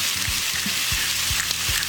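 Loud, bright sizzle of 16/20-size shrimp, one pound, dropped into a hot pan of hoisin green beans with garlic, shallot and ginger, a constant hiss over a few soft low thumps and no voices.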